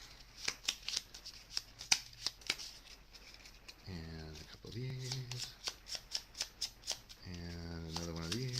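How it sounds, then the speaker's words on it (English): A deck of cards for the Dungeon Quest board game is shuffled repeatedly at close range, a string of quick riffling snaps in steady rhythm, with a person talking over parts of it. "And we need to shuffle the deck. Okay, we can do that. Shuffle."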